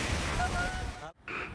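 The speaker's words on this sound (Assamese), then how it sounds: "ঢৌ মানে সাংঘাতিক ঢৌ আৰু সাগৰখন মানে দেখিলেহে অনুভৱ হয় সাগৰখন কি বস্তু" Sea waves breaking on a beach in Kerala make a steady, full surf roar with wind that drops out briefly near the end before rushing back.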